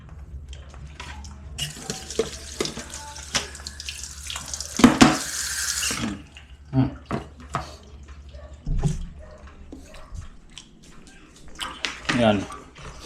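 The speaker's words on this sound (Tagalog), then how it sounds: "Hugasan ko lang yan. Hugas malala." Tap water runs into a sink while food is rinsed under it, splashing and gurgling up close, with brief speech around the washing.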